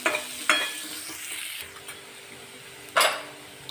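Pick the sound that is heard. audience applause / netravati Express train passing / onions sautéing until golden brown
onions sautéing until golden brown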